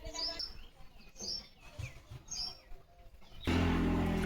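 Several brief high sparrow chirps repeat at intervals, then a sudden louder broadband noise takes over at the end.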